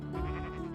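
Sheep in a farm-building video game let out a single drawn-out bleat, loud and close, filling the short moment on its own.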